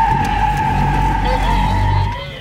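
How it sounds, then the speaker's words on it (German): Car tires squeal through a corner during a driver safety training session, a sustained high-pitched screech over a droning engine that fades near the end, with speech nearby. "ich will nicht, dass hier ständig quietschende Reifen sind"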